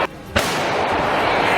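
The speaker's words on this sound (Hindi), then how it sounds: "रूस के सैनिकों ने दुश्मन के ठिकाने पर एक के बाद एक कई जोरदार धमाके किए" Russian artillery shells exploding: a sharp blast followed by a sustained rolling roar of detonation and debris, loud and dense, with a voice faintly mixed in.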